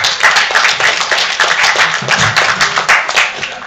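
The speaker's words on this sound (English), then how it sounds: "Let's give a big round of applause to all of our guests of honor." Audience applause at an anime convention opening ceremony, rapid close hand clapping with distinct individual claps in a loud, uneven patter that continues throughout.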